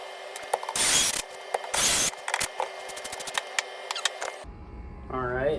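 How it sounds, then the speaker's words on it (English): Deck screws are driven into wood with a power drill during a woodworking repair, giving two loud whirring bursts of about half a second each, followed by clicks and handling noise, and a brief voice near the end. "So I think I'm gonna put a couple screws in here to level this out"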